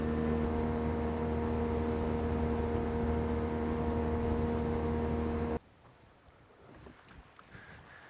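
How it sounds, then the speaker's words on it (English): Strong, gusty wind over open water on a bream-fishing boat, roaring steadily with a droning engine-like hum that cuts out abruptly, leaving fainter buffeting wind noise. "We're contending with some horrendous wind"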